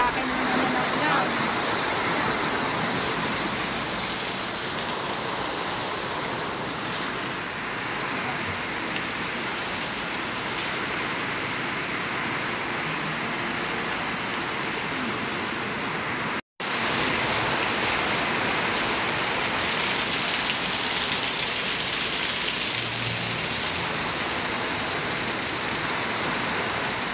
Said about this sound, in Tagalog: Lakas ng ulan, talagang grabe.